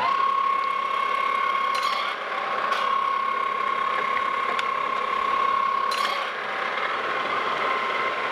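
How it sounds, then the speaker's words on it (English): A Monarch metal lathe runs at low RPM with a steady mechanical whirr and hum, with a few faint clicks and rattles spaced through it. "Let me turn the lathe on."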